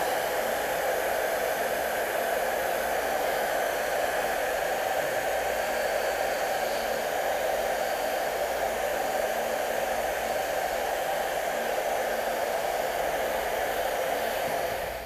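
A hair dryer blows continuously at close range onto fabric, a steady, loud, even rush of air with no pauses and no voices.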